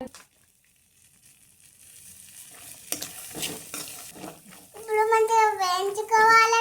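Corn frying in oil sizzles and crackles in a pan, quiet at first and then building, while a voice talks over it and a voice rises near the end.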